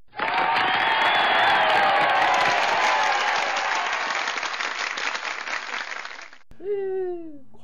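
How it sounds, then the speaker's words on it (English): A canned applause track of a large crowd clapping and cheering, loud and dense for several seconds before fading, then cut off as a voice speaks. "See that I put in the applause track right there."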